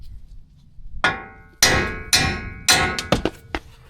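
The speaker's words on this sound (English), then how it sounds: "we're just going to hit it out with a hammer" Hammer blows knocking a wheel stud out of a Toyota Tundra hub, about eight sharp metallic strikes, some in quick pairs, close and loud over a quiet garage.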